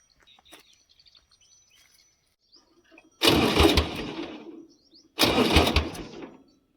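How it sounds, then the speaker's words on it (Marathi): A tractor engine in a village field cranks and catches twice in quick succession. Each close, loud rumbling burst lasts about a second and a half before dying away, after a quiet stretch with faint birds. "मी काय करतो, ट्रॅक्टर चालू करतो"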